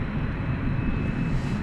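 A fixed-wing airliner takes off at night at DFW Airport, heard as a steady, broad engine roar that holds even and continuous throughout, moderately loud and fairly close, with no voices over it.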